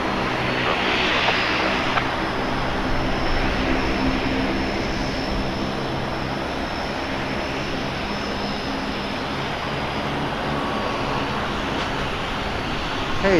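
Aircraft taxiing on the ramp at Portland airport, a steady loud engine roar with broadband hiss that holds evenly throughout, with no voices over it.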